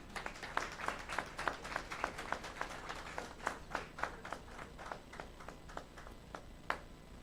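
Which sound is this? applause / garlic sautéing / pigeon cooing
applause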